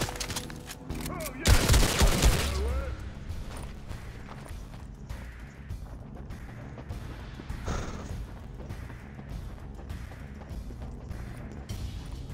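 Pump shotgun fire in Fortnite during a duo squads match, a loud burst of several rapid shots early on, then scattered quieter gunfire and footsteps under ongoing game sounds.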